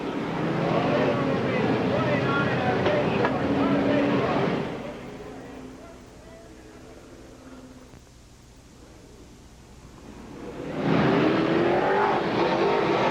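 Race cars roar around a speedway oval, loud engine noise filling the opening seconds, fading to a distant drone mid-clip, then swelling loud again as the field passes close.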